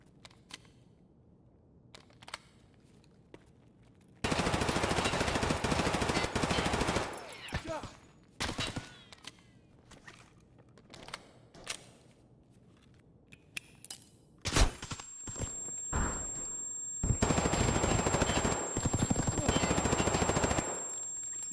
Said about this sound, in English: a clip of me using an MP5 versus a guy who's running some armor